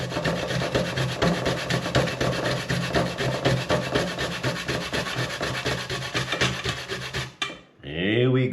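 A whole dried bissy (cola) nut being grated by hand, giving a steady, close rasping scrape in quick repeated strokes for about seven seconds before stopping abruptly.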